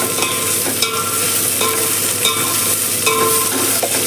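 Sliced onions and a handful of mint leaves fry in a pan with a loud continuous sizzle, punctuated every second or so by the scrape and knock of a stirring spoon, close up.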